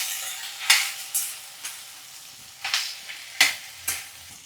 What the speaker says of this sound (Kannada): ಇದನ್ನು ಟೊಮೆಟೊ ಹಣ್ಣು ಹಾಕಿದ ಮೇಲೆ ಅವಾಗ ಹಿಂಗೆ ಗುರಾಡ್ಕೊಂತ ಹುರಿಬೇಕು